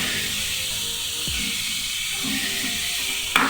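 Beetroot stir-fry hisses steadily in a hot pan while it is stirred, a continuous close sizzle with a soft scrape and a sharp clink near the end.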